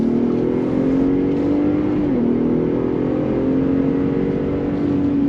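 A 2022 Ford F-150 Raptor pickup truck accelerates at full throttle, its engine a loud, steady roar heard up close, with the tone briefly dipping around a gear change before climbing again.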